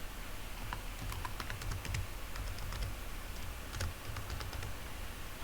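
Fingers tap out a new password on a computer keyboard in quick, light, irregular keystrokes over a low background hum, close and fairly quiet, with no speech.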